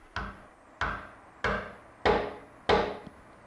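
A threaded nut is hammered into a wooden door pull that was turned on a wood lathe and is resting on a flat surface. Five sharp, solid taps come at a steady pace and ring briefly, with no talking.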